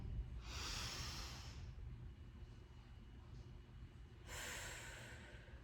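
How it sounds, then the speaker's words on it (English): Deep breathing during a relaxation exercise: two slow, breathy airflow sounds, separated by a quiet pause, close and soft over a low background rumble. "So deep breath in, reach up. Exhale, push the air out."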